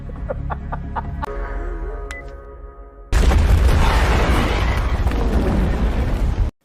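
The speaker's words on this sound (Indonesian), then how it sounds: "memegang ponsel untuk memicu ledakan besar" Clucking chickens and a crowing rooster give way to a sudden, huge explosion that roars and rumbles on for several seconds, set off remotely by a phone.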